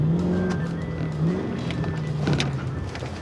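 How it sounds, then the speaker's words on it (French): A car engine revving in short bursts as the driver blips the gas, a close, steady mechanical drone rising and falling in pitch, with no talk over it. "Tu donnes toujours des coups de gaz."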